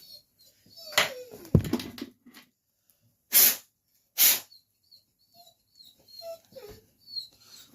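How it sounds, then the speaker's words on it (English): A dog whimpers and whines to be let outside, giving several short, close cries and yelps separated by quiet pauses. "There's a dog saying, "Dad, take me out."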